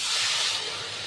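Hot water poured into a pan of rohu fish curry with tomato and potato, a steady loud hiss and sizzle filling the short moment, fading slightly toward the end.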